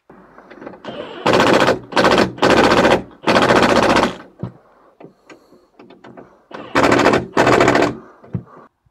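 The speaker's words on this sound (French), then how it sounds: "je vais repéter les vis en haut direct" A pneumatic impact wrench loosens screws on a car's rear axle, firing about six loud rattling bursts of a second or less, separated by short pauses and small clanks from the workshop.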